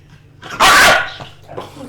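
A dog lets out one loud, close bark followed by a couple of softer yips and whimpers, against a quiet indoor background.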